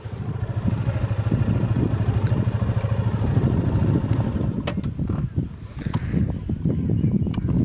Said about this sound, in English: 250cc motorcycle Yamaha FZ 25.